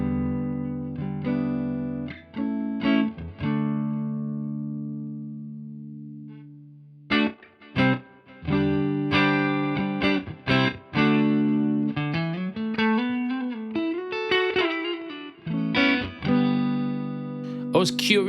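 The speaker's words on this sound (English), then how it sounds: "I used this to dial back the space echo as it was more of a feature of my tone than I wanted it to be." An electric guitar played through a Fender ToneMaster Pro with a space echo effect rings out in chords and single notes, with sustained notes, a long decaying tail and a busier run of picked phrases, loud and close throughout.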